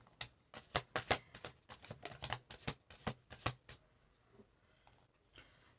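Angel oracle cards are shuffled and laid out, a quick run of soft, crisp card riffles and taps, close and quiet, fading to near silence, with no talking.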